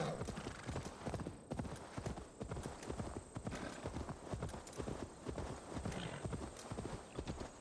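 Horse hooves clip-clop in a steady quick rhythm in Assassin's Creed Valhalla, a close, continuous gait with game ambience beneath.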